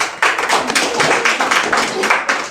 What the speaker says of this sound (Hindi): चलिए सब ताली बजाइए।